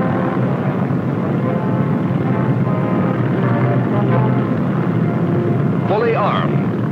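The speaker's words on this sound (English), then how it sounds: "Fully armed, the 21st Bomber Command was taking off for Japan." B-29 bombers of the 21st Bomber Command, fully armed, taking off for Japan in 1944-1945: a continuous engine drone beneath a narrator's voice, with a brief rising whine near the end.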